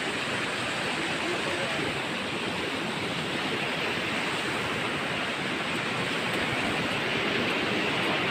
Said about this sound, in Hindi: झरने वाली जगह।